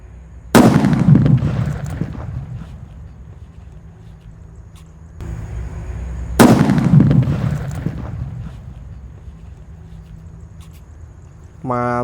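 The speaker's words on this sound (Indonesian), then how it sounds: "Ini mercon buntelan kertas yang akan kita nyalakan level 3" A banaspati paper-wrapped firecracker set off inside a hole in the ground explodes in two loud, deep booms about six seconds apart, each with a short rumbling decay, outdoors.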